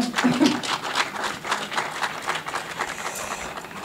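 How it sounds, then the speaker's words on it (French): Applause at the inauguration of a cultural complex in the commune of Bandal, a moderate, continuous patter of many hands that stays level throughout, with brief voice sounds near the start. "Oui, on peut les applaudir en fait"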